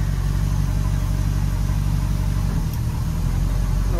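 Twin Mercury Mag 350 inboard engines on a Donzi 28ZXO boat idle low and steady, with a continuous deep rumble close by and no speech.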